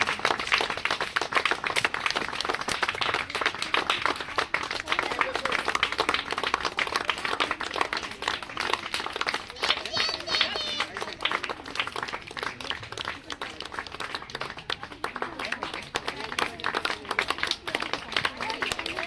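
An audience claps at an inauguration ceremony opening a theatre workshop, a sustained, rhythmic patter of many hands that keeps going at a steady level, with a few voices faintly underneath.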